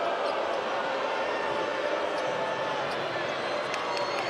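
A basketball arena crowd at a Hofstra versus Drexel college game keeps up a dense, loud, sustained roar of cheering, with faint sharp bounces and squeaks now and then.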